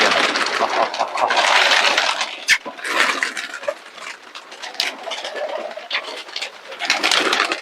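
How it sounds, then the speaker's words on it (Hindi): Many pigeons chatter and coo together in a busy, enclosed space, a dense layered flock sound with occasional louder calls and flutters. "दोस्तों कबूतर बहुत है"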